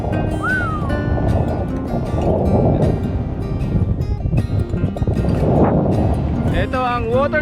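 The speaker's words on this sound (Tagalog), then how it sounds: "Sobrang napakahangin dito." Strong wind at Waterton, Alberta, Canada buffets the microphone in loud gusts, with a person talking underneath.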